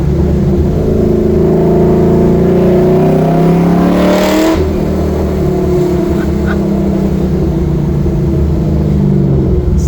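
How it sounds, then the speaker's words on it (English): A 1969 Camaro's LS3 V8 engine rumbles and revs steadily throughout, pitch rising and falling, close and continuous. "Sounds like a straight up stock car."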